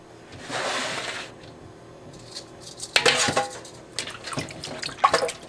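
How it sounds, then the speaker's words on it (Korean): Lemons that were soaked in baking soda water are lifted out and rinsed in fresh water, with a close splash, sloshing, and light clinks against a bowl or sink. "이제 베이킹소다 물에 담궈놨던 레몬들을 꺼내줄게요. 베이킹소다 물을 버리고 다시 새물에 담가줬어요."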